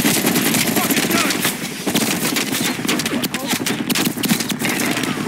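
Rapid automatic gunfire from the Call of Duty Black Ops Cold War campaign, dense continuous bursts up close with a voice talking over the shooting.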